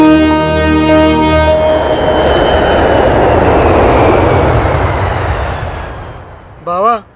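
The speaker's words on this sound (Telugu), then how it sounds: "ఫ్లైట్ వచ్చేసింది" A large aircraft's engine roar swells loud and steady for several seconds, rumbling broadly before slowly easing off, with a brief tonal whine at the very end.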